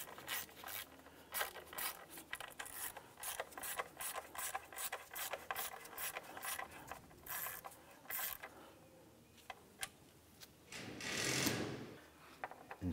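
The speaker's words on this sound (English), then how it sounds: "There's only so far you can tighten these nuts down before it just stops," A ratchet works nuts on a 2001-2005 Honda Civic engine during a camshaft position sensor replacement, giving long runs of quick, close metallic clicks in bursts, then a pause and a brief rising whir.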